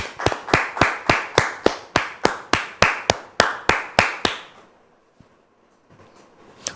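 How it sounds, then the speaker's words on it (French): A studio audience claps in steady unison to welcome a guest, about sixteen crisp, evenly spaced beats, then stops, leaving near silence with a few faint knocks. "Merci de recevoir Dame Gisèle sous vos applaudissements."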